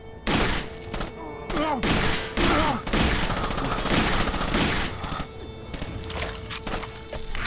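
Gunfire in the Rainbow Six Vegas 2 video game, with rapid automatic bursts and single sharp shots crackling loud and close, accompanied by rattling impacts and voices talking now and then.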